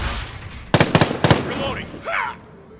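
A grenade detonates in Call of Duty Modern Warfare multiplayer as a quick cluster of three sharp bursts, followed by a short voice callout.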